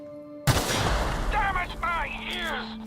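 Gunfire from The Outer Worlds video game: a sudden sharp burst after a quiet start, followed by layered shots, game sound effects and tonal chatter, moderately loud throughout.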